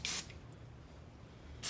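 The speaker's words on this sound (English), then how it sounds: "And I'll spray it." Two short bursts of hair texturizer spray misted onto fine hair, one at the start and one at the end, with a quiet pause between them.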